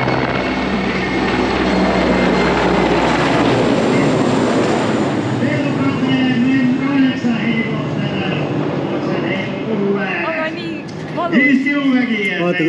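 Aircraft at an Estonian air show rumble and roar steadily throughout, with people talking close by over the engine noise.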